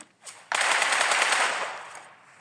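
Automatic rifle spray in PUBG Mobile: a loud, close burst of rapid continuous gunfire lasting about a second and a half, tailing off into a short echo.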